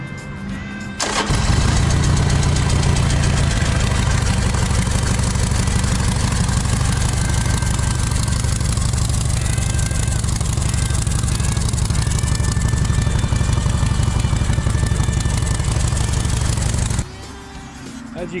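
Harley Davidson XL1200L Sportster Low with a 1200 fuel-injected engine fires up after a second and runs at a steady, loud, close idle with an even rumbling beat, then cuts off near the end.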